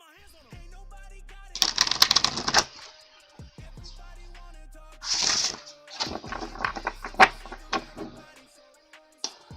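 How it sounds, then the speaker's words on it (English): Several bursts of crisp, rapid riffling of tarot cards being shuffled close by, separated by short quiet gaps with light handling noises. "I'm gonna shuffle again."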